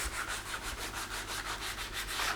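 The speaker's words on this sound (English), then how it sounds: "From 220 you could go to 180 and you can sand more" Rhythmic back-and-forth strokes of sandpaper rubbing over primed paint, close and steady, a gritty scratching repeated about every quarter second with no voices.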